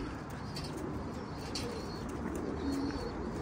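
Pigeons coo softly and steadily throughout, with occasional chirps and a hint of wing flapping in the mid-distance at a bird-keeping loft.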